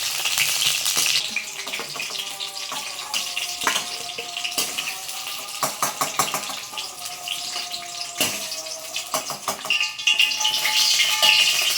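Eggplant pieces fry in hot oil for a spicy Tamil eggplant curry, giving a steady, close sizzle and crackle with occasional clinks and stirring sounds.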